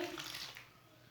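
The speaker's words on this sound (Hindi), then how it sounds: "अब थोड़ा पानी डाल लेंगे," Water splashes briefly into spinach pakora batter in a bowl, a soft, close hiss that fades within a second.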